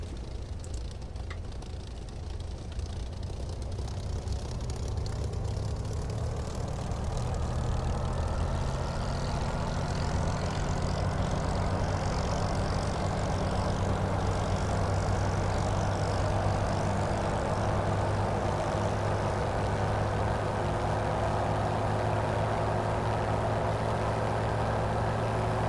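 A Hawker Hurricane Mk1 model aircraft engine revs up and holds a loud, steady high-speed buzz with a droning propeller roar that builds over the first few seconds and then sustains close by.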